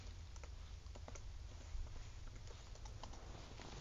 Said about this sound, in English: type it in my password